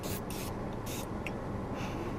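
A handheld facial mist spray sprayed during a makeup routine, releasing several quick hissing bursts in an uneven rhythm over a steady background hiss.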